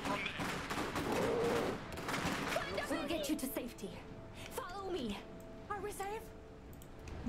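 Rapid gunfire bursts from the video game Iron Harvest crackle through the first seconds, then thin out as voices talk over scattered shots and battle noise.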